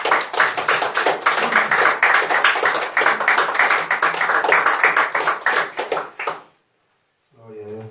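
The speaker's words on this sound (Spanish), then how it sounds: "Un aplauso al Señor en agradecimiento" Church congregation applause, loud rhythmic clapping that stops abruptly after about six seconds, followed by a brief silence and then a voice speaking.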